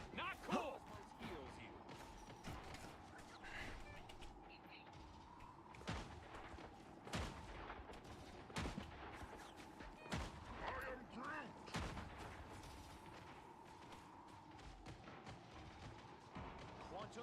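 Rapid gunfire from a quick-play match in a video game, repeated sharp shots and bursts crackling through a busy mix of other game effects, with a player talking over it.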